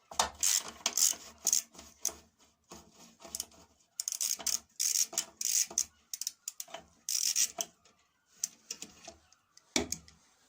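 Ratcheting clicks from a 13mm socket wrench backing out a long bolt behind the fuel cap of a Briggs and Stratton 3.5 Classic engine, in close, bursty clusters with short pauses.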